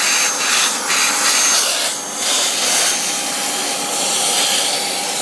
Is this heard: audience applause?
no